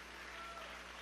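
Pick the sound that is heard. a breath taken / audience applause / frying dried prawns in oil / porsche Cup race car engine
audience applause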